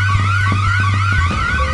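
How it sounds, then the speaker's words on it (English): A looping electronic alarm in the stealth video game Hidden Asset, a steady warbling tone that wails continuously and loudly, with a low hum and a few soft thumps underneath and no talking. "And the alarm goes off."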